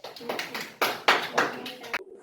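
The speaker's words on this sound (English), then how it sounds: "Clap for Vignesh." Students in a classroom clap for a quiz winner, a short, uneven burst of close handclaps lasting about two seconds, with some talk mixed in.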